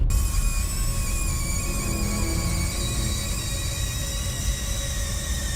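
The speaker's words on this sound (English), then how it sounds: "one customer caught a short video of the sign screaming and screeching as it shows off the menu" A restaurant drive-thru menu sign screaming and screeching, heard as continuous shrill, high-pitched squealing tones layered over dense steady noise, loud and unbroken throughout.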